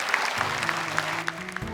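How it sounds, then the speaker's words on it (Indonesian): Studio audience claps for the first team on a televised children's Quran memorization competition, a brief, moderate burst of applause over a sustained background music tone. "Boleh tepuk tangan untuk tim yang pertama."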